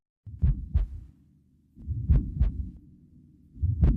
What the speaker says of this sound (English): I used the sound of the heartbeat and the first ultrasound as well as migraine.